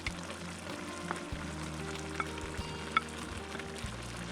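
Meat sizzles in a pan at an outdoor cookout, a soft continuous frying hiss with a few small pops and crackles, fairly quiet and steady with no voices.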